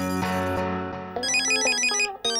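A phone ringtone plays at close range while a call is placed to Abdul: a sustained tone gives way to a bright, repeating electronic melody with quick rhythmic notes.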